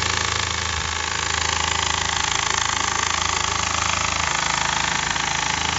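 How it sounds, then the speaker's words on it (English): A small 1949 Jensen 35 engine with a heavy flywheel runs steadily and smoothly, a close, continuous mechanical chug with no talking. "It's a fun little engine. It's one of the smallest engines made by Jensen."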